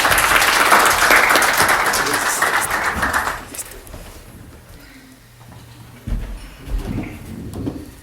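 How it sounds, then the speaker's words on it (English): An audience at a business event welcomes an entrepreneur to the stage with a loud, dense round of applause lasting about three seconds. It then fades to a quieter room with scattered voices and shuffling. "Please give him a round of applause."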